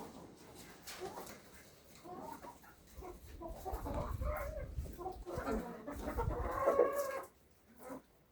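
Chickens cluck and squawk close by, growing busier toward the end, while a person talks over them.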